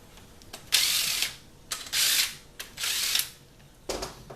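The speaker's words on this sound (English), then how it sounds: "then we can install our bolts, and we have 3 long bolts" Bolts are driven into a CD4E transmission valve body with a ratcheting tool, heard as four close bursts of rapid clicking separated by short pauses.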